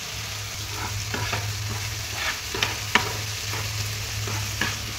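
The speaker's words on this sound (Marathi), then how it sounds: "कांदा टोमॅटो, तो मी कच्चाच घेतलेला, त्यामुळे तो थोडासा की नाही आता तेलावर परतून घ्यायचा" Chopped onion and tomato masala sizzles in hot oil in a pan, with a steady close hiss broken by the scrape and clink of a spoon stirring every so often.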